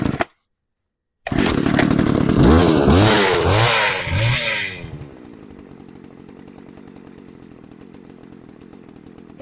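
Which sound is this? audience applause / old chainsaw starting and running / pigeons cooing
old chainsaw starting and running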